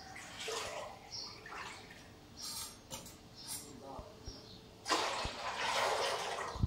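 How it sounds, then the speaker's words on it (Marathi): Water poured from a vessel into a pot set on a lit gas stove for making sago papad, splashing in short bursts and then a longer heavier pour, with a voice faintly between pours. "2 तांबे पाणी टाकते।"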